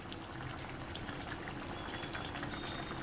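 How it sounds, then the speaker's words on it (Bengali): Tengra fish curry boils in a pot with a steady bubbling simmer, soft and continuous, with small pops of liquid and no talk. "এবারে সামান্য একটু ফুটিয়ে নেব, ফুটিয়ে নামিয়ে নেব"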